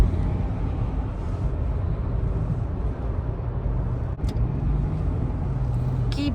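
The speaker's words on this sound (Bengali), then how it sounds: "কি বিজি একটা হাইওয়ে" Steady roar of busy highway traffic in Scarborough, a continuous broadband rush of passing cars with low rumble, heard from close by without interruption.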